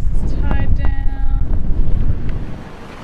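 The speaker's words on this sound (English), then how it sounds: "it's just a little blustery today" Blustery wind buffets the microphone aboard a sailboat on passage from the US Virgin Islands toward Grenada, a loud continuous low roar with gusts, while brief voices and tonal sounds come through near the start.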